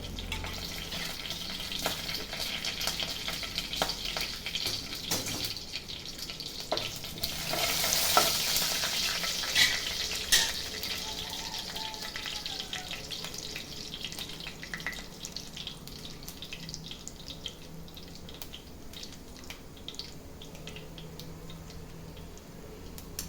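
Steady sizzling and crackling of fennel, cinnamon, bay leaf, cardamom, cloves and stone flower frying in hot oil for mutton gravy, with occasional stirring clatter and a brief louder burst partway through.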